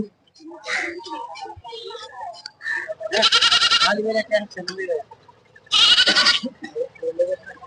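Goats bleating loudly at a tribal weekly market, with two strong, drawn-out calls close by amid lively chatter and market bustle.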